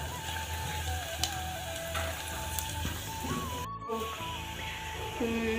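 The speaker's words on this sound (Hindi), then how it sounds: "यहाँ पे लहसुन और प्याज का तड़का लगा रही हूँ मैं" Steady, crackling sizzle of garlic and onion frying in hot oil, close and continuous, with faint tonal sounds running underneath.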